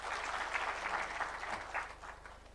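Audience applauding a government panel at the start of a conversation, a dense burst of clapping from many hands that swells and then tapers off, moderately distant in a hall.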